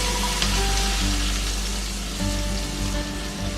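Onion frying with curry leaves in hot oil for a raw banana bhaji, a steady loud sizzle and crackle with faint stirring movements and a low background hum.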